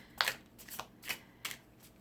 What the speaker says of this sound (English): I'm just gonna do a quick shuffle like this